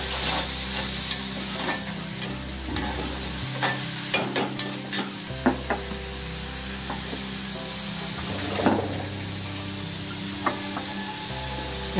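Onions sizzle and fry in hot oil for an onion bhaji, with a steady close crackle, scattered spoon-stirring clicks and scrapes throughout, and no voices.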